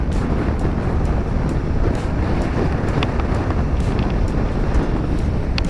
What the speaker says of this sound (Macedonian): Премногу дува вака, кацигата ме дува.